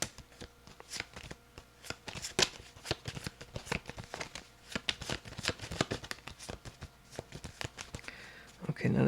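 Tarot cards being shuffled close up, a long run of crisp riffling and slapping bursts in an irregular rhythm, with no talk over it.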